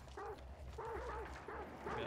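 Dogs barking in the video game Hunt: Showdown, a few yelping barks in short bursts over a steady low ambient rumble.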